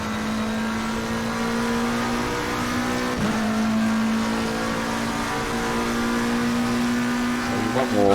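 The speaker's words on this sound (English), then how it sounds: "So one more hot lap here in the McLaren." A McLaren 720S GT3 engine in a racing video game, a loud sustained high-revving drone with a brief gear-shift dip partway through and rising pitch toward the end.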